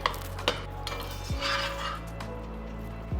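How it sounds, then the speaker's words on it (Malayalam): Spoon stirring and mashing cooked yam as it sautés in a pan with ghee, soft scraping and occasional light clinks of utensil against the pan, close and quiet, no voices. "ജസ്റ്റ് ഒന്ന് പതിയൊന്ന് മാഷ് ചെയ്തുകൊണ്ട് വേണം സോട്ടേ ചെയ്യാനായിട്ട്"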